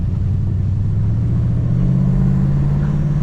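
A 1970s Holden HQ DeVille V8 car pulling away, a loud low engine rumble that holds steady and swells slightly as it drives off.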